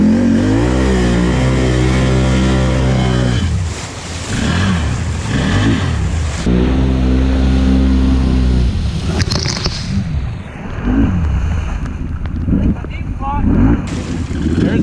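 Can-Am Renegade 1000 ATV engine in four-wheel drive and sport mode revving loudly in mud, with rising and falling engine tones and bursts of acceleration, while people talk over it.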